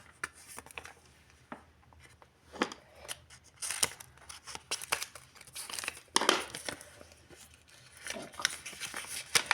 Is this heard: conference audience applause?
no